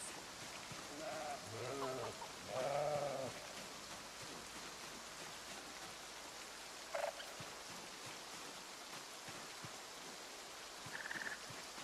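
Several short sheep bleats come in a cluster, then a couple of isolated ones later, set against a quiet, steady background in the video game Project Zomboid.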